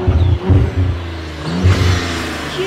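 An Audi B9 S4 with an ECS X-pipe exhaust accelerates close by, giving several short revving bursts with gaps between them.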